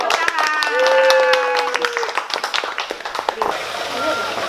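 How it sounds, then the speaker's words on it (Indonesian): Hand clapping from a small audience at a business training workshop, a scattered run of claps beneath a voice and a sustained tone, thinning out toward the end. "Tepuk tangannya."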